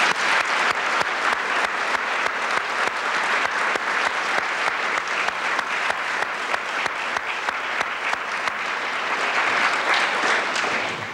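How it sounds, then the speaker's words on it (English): Sustained, dense audience applause for ARPANET pioneers at a 25th anniversary celebration event, loud and steady throughout with no speech over it. "Please join me again in a hearty round of applause for the ARPANET pioneers."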